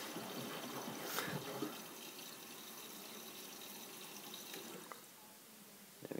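Water pours steadily into a Miele W562 washing machine on an Easy-Care/Delicates 40°C cycle, filling the drum to a high level for the final rinse, a continuous close rushing hiss with a faint knock near the end.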